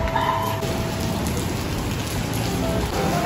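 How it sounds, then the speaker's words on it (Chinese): Steady rain falling outside, a dense continuous patter that stays even and fairly loud throughout, with no voices. "外面下雨"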